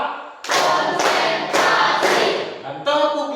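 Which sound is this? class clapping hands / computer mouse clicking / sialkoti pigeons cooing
class clapping hands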